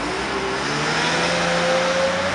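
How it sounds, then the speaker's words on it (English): A GMC TopKick truck drives by on a city street in Montreal, Quebec, its engine a steady, loud drone with a slowly rising tone that stays close for the whole stretch. "That top kick sounds funny"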